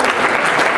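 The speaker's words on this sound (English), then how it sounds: "Round of applause." A brief burst of loud, dense clapping from a campus audience at a college show, close and continuous for under a second with no speech over it.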